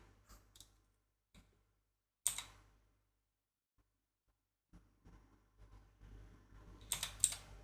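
Sparse keyboard clicks and taps near a Commodore 64 setup, coming in brief isolated bursts with long quiet gaps, then a denser cluster of keystrokes at the end.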